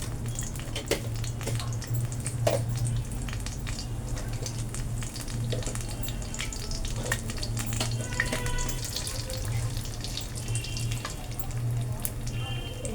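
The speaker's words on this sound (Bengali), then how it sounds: "এখন আমি এর মধ্যে এক চামচ জিরে দিচ্ছি" A spoonful of cumin seeds with a torn dried red chili frying in hot oil for a royal-style ash gourd dish, giving a close, steady, dense sizzle with scattered sharper crackles and pops over a low constant hum throughout.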